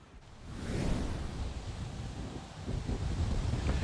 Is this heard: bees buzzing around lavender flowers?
no